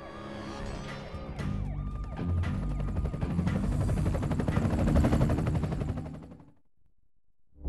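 A helicopter roars during a cutscene in the game TMNT 2: Battle Nexus. The dense mechanical noise swells loud with crashing hits, then cuts off sharply near the end.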